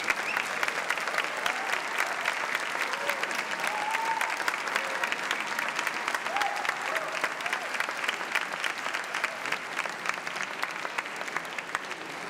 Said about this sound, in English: please clap and applaud, whistle and cheer